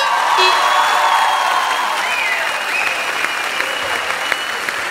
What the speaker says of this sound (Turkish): Büyük alkışlar hem orkestraya hem Kenan Doğulu'ya